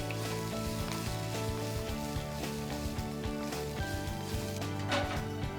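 Green chillies sizzle in a pan of hot oil for a bottle gourd curry, giving a continuous dense frying hiss, close and steady throughout with no talking over it.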